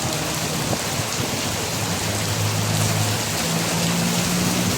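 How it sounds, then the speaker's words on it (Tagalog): Steady rain pours down on an afternoon, a dense, even hiss of drops striking surfaces that stays constant and fairly loud throughout, with no voices. "It's raining here."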